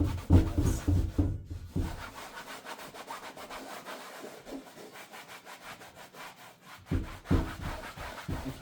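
A small rag rubbing over paint on a canvas painting, giving soft scratchy strokes in a fast steady rhythm, close, louder at the start, quieter through the middle and stronger again near the end, with no talk.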